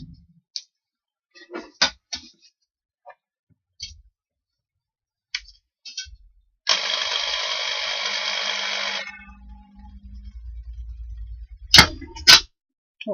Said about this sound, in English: let's drill those holes